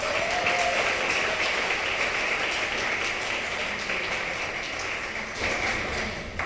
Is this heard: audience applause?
yes